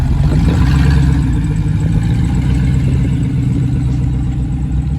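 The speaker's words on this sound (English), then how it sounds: "The Land Rover drives, it moves around." A Land Rover engine runs steadily at a car show party, a loud, continuous low rumble with a slight rise and fall in revs as the vehicle drives around close by.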